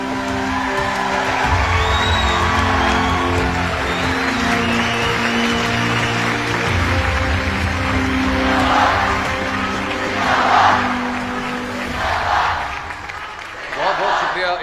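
Large audience at a Pakistan Army event clapping and cheering, sustained loud applause with whoops and shouts from a big crowd, a voice on a PA speaking over it toward the end.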